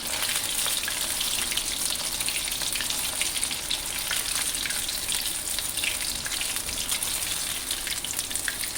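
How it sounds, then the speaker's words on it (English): Steady, loud crackling sizzle of fish deep frying in hot oil, continuous and dense throughout with no voices. "So this is going to be a very quick frying, just a minute or two."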